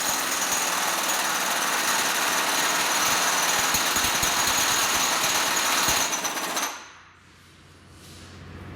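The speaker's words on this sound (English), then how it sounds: "We're going to run these bolts down for 6 seconds" A Milwaukee M18 FUEL high-torque impact wrench runs bolts down, hammering loud and steady for about six seconds, then cuts off abruptly into near quiet.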